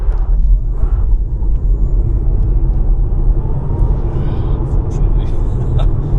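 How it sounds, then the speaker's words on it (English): An MG4 XPOWER electric car makes a launch-control start on a wet winter road, with a steady low rumble and road roar throughout and a faint rising whine as it accelerates. "So I'll just do a quick launch control."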